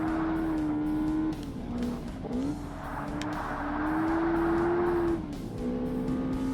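A race car in Forza Motorsport on Xbox screams loud and steady near its rev limiter, the high whine holding, dipping briefly with shifts and climbing again, with tire noise underneath and no talk.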